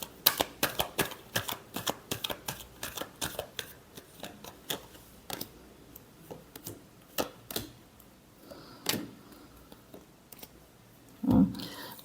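Tarot cards shuffled by hand, a quick run of crisp riffling snaps that slows into scattered card flicks and taps, close and fairly quiet, no speech.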